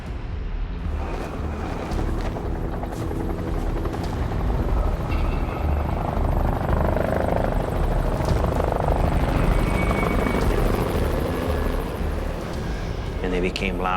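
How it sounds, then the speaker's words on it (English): Several helicopters give a steady, rumbling rotor roar that slowly builds in loudness as they draw nearer, though they stay out of view. "I heard some helicopters."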